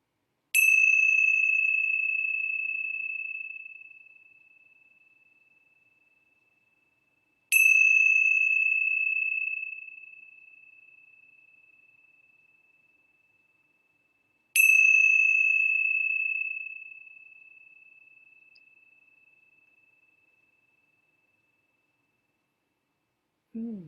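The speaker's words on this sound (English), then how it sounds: "let's begin our time with the ringing of the bells of hope" Three clear bell strikes spaced evenly apart, each ringing out bright and pure and slowly fading into silence before the next.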